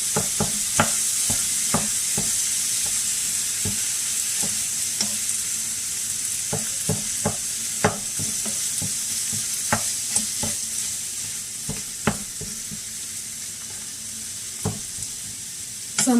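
Food fries in a pan with a continuous loud sizzle while a utensil breaks it up, making scattered sharp taps and scrapes against the pan over the steady hiss, close by with no speech.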